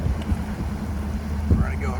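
A bass boat motor idles in a creek as a low, steady rumble with wind buffeting the microphone, close and continuous throughout.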